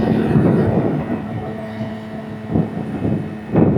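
A car engine running near 6,000 RPM on a long descent down a mountain road in Yunnan, China, heard from inside as a steady, loud low rumble with occasional thumps from the road.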